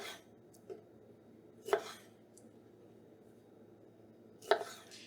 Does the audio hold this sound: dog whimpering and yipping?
no